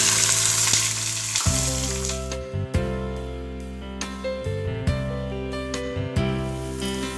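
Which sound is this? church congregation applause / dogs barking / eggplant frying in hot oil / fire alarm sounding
eggplant frying in hot oil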